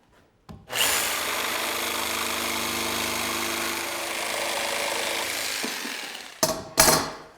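A power saw cuts steadily through a wooden board along a marked line, giving a loud, continuous whining buzz for about six seconds, then spinning down with a couple of short final bursts.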